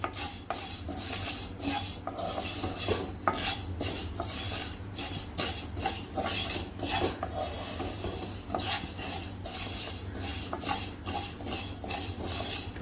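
Whole spices dry-roasting in a pan for homemade mango pickle masala, with steady scraping and clinking of a spoon against the metal pan and a continuous low hum underneath, fairly close and busy throughout.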